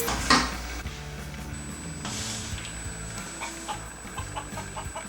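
Chicken clucking dubbed over a turkey being prepared for roasting, with short hen-like clucks repeating near and fairly loud above low kitchen background noise.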